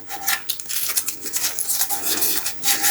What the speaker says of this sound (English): I'm going to sand the adhesive into the crack.